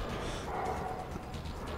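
Dogs bark in Metro Exodus, a few muffled yaps partly buried in rumbling game ambience, fairly faint and brief.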